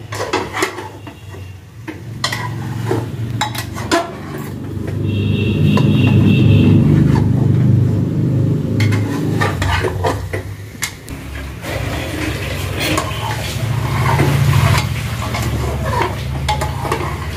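Mutton for curry sautéing and being stirred in a pan: steady sizzle with repeated scrapes and clinks of a utensil against the metal, close and continuous throughout, with no talking.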